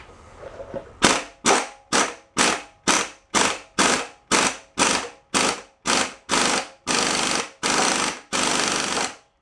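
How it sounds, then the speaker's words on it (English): An impact gun hammering at a bolt on a 1941 Farmall tractor engine during disassembly, fourteen loud close rattling bursts in a steady rhythm, the last few running longer. "How about we try an impact gun first?"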